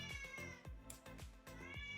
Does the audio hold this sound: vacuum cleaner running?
no